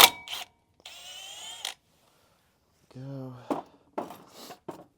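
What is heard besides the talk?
impact wrench on T30 Torx screw, GMC Sierra brakes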